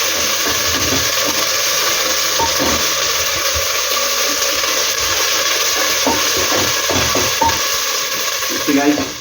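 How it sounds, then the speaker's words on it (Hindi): Ginger, garlic and onion fry in a hot pan with a continuous loud sizzle, and occasional stirring scrapes sound close by. "इसको थोड़ा फ्राई कर लेंगे"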